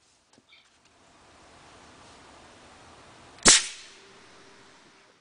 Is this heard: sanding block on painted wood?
no